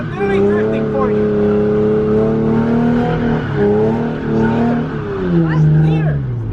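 A car driven by a beginner learning to drift revs hard, its engine note climbing and falling in sweeping waves, with tire squeal mixed into the loud, close roar.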